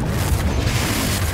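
A Confringo spell explosion from the Hogwarts Legacy video game, a heavy low boom that rumbles steadily for just over a second with no talking over it.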